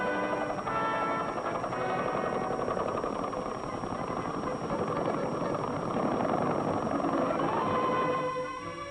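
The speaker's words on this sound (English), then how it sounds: "sections of a bridge are flown in by helicopter and lowered into position" A helicopter hovers while lowering a bridge section into position, its engine and rotor producing a steady, loud, continuous drone throughout, with a dense churning texture and no pauses.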